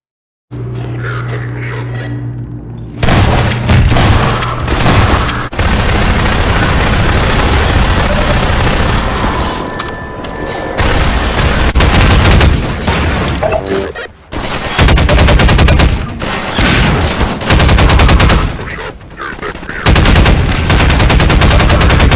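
Loud, dense gunfire from the video game Half-Life 2, with rapid automatic bursts and heavy shots in quick succession, broken by brief gaps and near-continuous throughout.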